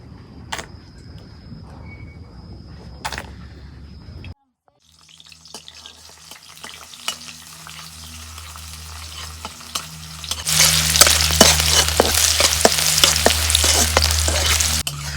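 Oil heating in a wok and then onions going into it: faint clinks and scraping first, then a rising crackle that bursts into a loud, dense sizzle during the last few seconds.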